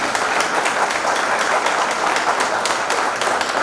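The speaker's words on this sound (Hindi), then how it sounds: "उनके स्वागत के लिए एक जोरदार ताली" Loud, dense applause from a crowd at a Vanvasi Vikas Parishad event in Seoni honouring Balasaheb Deshpande's birth anniversary, sustained and even throughout with no talk over it.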